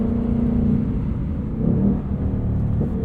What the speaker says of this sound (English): Like the downshifts into the corner there.